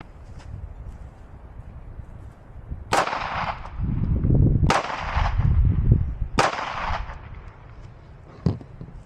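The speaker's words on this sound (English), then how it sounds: "So first thing we're gonna do is shoot the 9." A 9mm pistol fires at an outdoor range with three loud, sharp gunshots spaced a couple of seconds apart. Each shot is followed by a brief rumbling echo, and a fainter click comes near the end.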